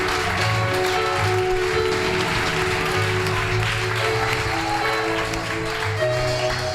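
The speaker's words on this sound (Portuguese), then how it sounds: "Aplauda ao Senhor." A church congregation claps together during a worship service, with a continuous wash of applause over sustained musical tones that keeps a steady, loud level throughout.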